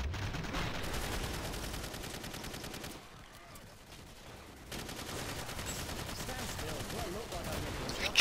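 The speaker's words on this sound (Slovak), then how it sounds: "To bol riadny výbuch, ľudia, ste to videli." Dense, rapid gunfire and explosions from the shooter video game Killing Floor, crackling almost without a break apart from a short quieter lull midway.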